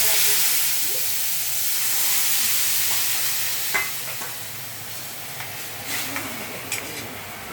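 Rohu fish pieces with salt and turmeric sizzle in hot oil, a loud steady hissing fry with occasional sharp pops and clinks of a utensil.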